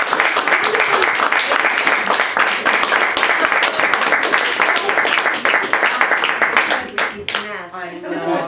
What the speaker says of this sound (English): let's give the poets a round of applause.